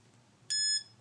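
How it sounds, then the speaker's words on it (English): A single bright electronic beep from a homemade C# ping pong game as the ball is struck, a clean tone with stacked harmonics lasting about a third of a second over a quiet background. "It beeps when I hit the ball."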